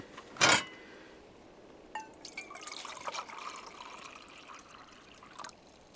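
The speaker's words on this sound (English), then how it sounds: "I'm going to put 2 cups of water in my pots" Two cups of water poured into a metal pot for a Firebox stove wood pellet test: a brief splash, then a steady, moderately quiet trickle and dribble that runs for several seconds, with no voice.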